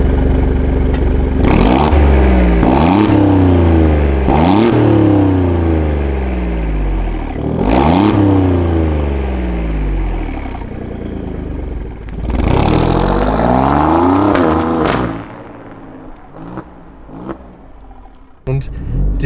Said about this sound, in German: Das ist ein 6-Zylinder-Motor, aber es ist ein richtig Hammer-Sound.